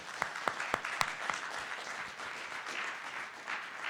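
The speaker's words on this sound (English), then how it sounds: "Let's have a round of applause for our panelists." A panel audience applauds after a session on retaining and graduating students, opening with several sharp, distinct claps before thickening into a softer, steady patter of clapping at moderate distance.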